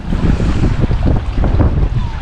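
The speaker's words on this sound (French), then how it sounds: "Putain, mais il descend pas ce vent." Strong gusting wind blows at a sailboat mooring as a loud, continuous buffeting roar, with the boat's creaks and water noise blended in.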